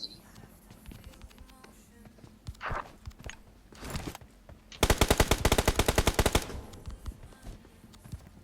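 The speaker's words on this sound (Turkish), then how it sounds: "Nereden gördün de sıkıyorsun bana ya?" Gunfire in PUBG Mobile on the Livik map: a few scattered single shots give way to a long, loud, rapid automatic burst, then fade back to quiet movement sounds.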